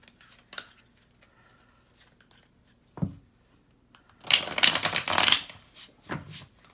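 Tarot cards are shuffled for a reading: a few soft isolated taps and flicks, then a close, dense burst of riffling card noise lasting about a second, followed by quieter handling.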